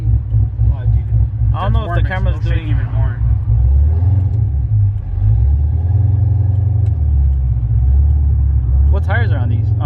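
Naturally aspirated V8 car rumbling loudly and steadily while driving, with deep low throb rising and falling through the run; voices talk over it in the cabin.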